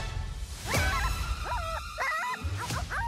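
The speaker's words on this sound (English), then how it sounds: "Why can't I have a normal dog?" A cartoon dog from a Snoopy trailer yips and barks in short, high-pitched bursts, a few quick calls heard close up over soft background music.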